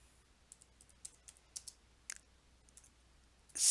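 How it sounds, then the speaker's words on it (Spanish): Sharp mouse button clicks on a computer while working on a spreadsheet chart, about a dozen light, close taps spaced irregularly across a quiet background, ending in a louder burst of noise. "damos clic sobre el gráfico con el botón derecho del mouse"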